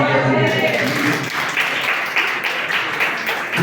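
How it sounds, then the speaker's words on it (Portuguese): A church congregation applauding during a service. Dense, loud clapping fills the room, a voice briefly overlaps it at the start, and the applause continues steadily to the end. "uma salva de palmas"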